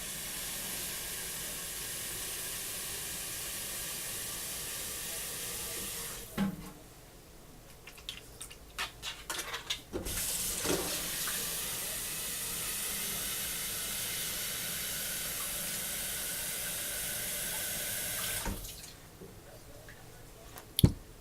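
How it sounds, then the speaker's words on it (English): Water pours into a pot of dry pinto beans being prepared for canning, a steady hissing rush that breaks off midway with some clatter, then resumes before stopping again. "I'm going to add some more water."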